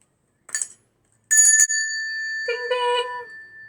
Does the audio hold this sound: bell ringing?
yes